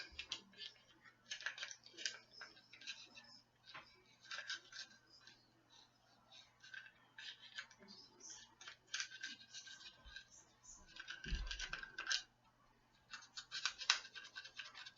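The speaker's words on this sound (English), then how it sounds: "got the brush filled with Hoppies, and we're just going to go through and scrub the bejesus out of this part" An Anschutz rifle part scrubbed with a brush soaked in Hoppe's solvent, close, bristly scratching strokes in bursts with brief pauses and a clunk near the end, over a faint hum with occasional soft talk.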